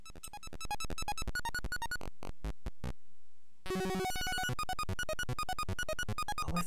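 Bleepy synthesized music from the computer game Little Computer People plays as rapid, evenly pulsed electronic notes, breaking into a few isolated tones and a short quiet gap before the busy tune resumes.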